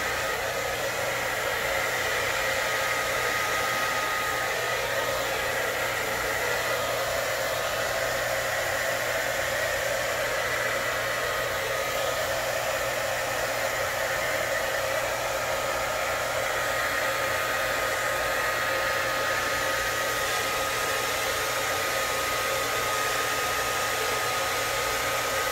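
A hair dryer on low speed blows across acrylic pour paint, a continuous close, even rushing whoosh held without a break and no voices.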